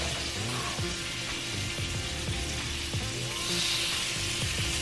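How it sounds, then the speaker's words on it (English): Lamb chops sizzling in a pan with rosemary and thyme, a steady close hiss of frying fat with faint crackles and occasional clinks throughout. "I'm gonna just add in the lamb chops one by one. And that nice sizzle sound is what you want to hear"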